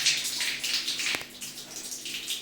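Water runs steadily into a newly installed home water geyser, making a continuous close hiss of flowing water with one brief click partway through.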